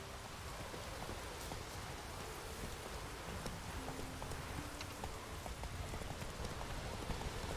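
Steady rain in The Witcher 3 video game pattering on a surface, a dense continuous hiss with scattered drops, heard alone and fairly even throughout.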